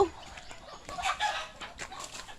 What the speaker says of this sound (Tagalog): Oh. Chicken. Oh. Chicken.